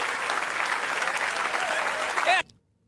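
A studio audience at a network comedy show breaks into loud, dense applause that holds steady for over two seconds, then cuts off abruptly into silence.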